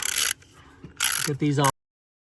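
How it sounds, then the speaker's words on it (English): Ratchet wrench on 8mm bolts securing the ignition coils of a 2002 Chrysler Sebring, quick rapid clicking bursts in short close strokes, no talk. "All right, so I got all 3 coils back there tightened."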